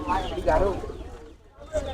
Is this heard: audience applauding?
no